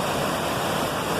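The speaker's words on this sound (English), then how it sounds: "Enjoy this waterfall. It's little, but amazing and great" A small waterfall pours in a steady, even rush of water, close and constant through the whole brief moment, with no voices.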